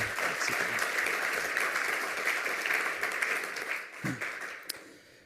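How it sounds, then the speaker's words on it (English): A conference crowd applauds after a lightning talk, a sustained wash of clapping that fades over the last seconds, with a few voices and stray claps at the end. "Give him a round of applause."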